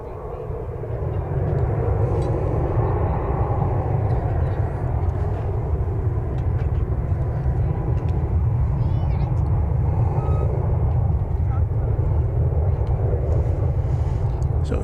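Airliner taking off from runway 18 left at DFW Airport, a loud, sustained low jet engine roar that swells in and then holds steady throughout, heard from nearby with faint chirps over it.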